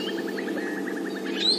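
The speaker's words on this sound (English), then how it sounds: "Some parrots just flew past." Parrots screech while flying past at a dam in a safari reserve, a rapid run of short, repeated calls in steady rhythm, fairly faint and distant over a constant low outdoor hum, with a higher rising squawk near the end.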